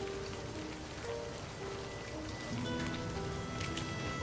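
Steady rain pours down in a video game scene, a dense, even wash of drops on surfaces that stays loud and continuous throughout with no pauses.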